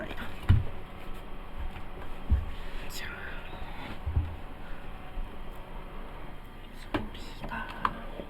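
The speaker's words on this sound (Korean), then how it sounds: "선풍기를 켰어요." An electric fan runs on a hot day, giving a steady, even whir throughout with a few soft knocks and a brief quiet voice over it.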